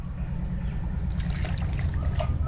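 Small dhura fish being washed by hand in water in a Barishal home kitchen, a steady wet sloshing and splashing with low rumble throughout, close and fairly loud, no talking.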